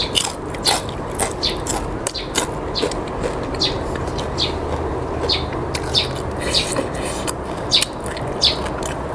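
Crispy deep-fried tilapia bitten and chewed up close, with a steady run of sharp crunches over a dense outdoor background of birds chirping and constant hiss.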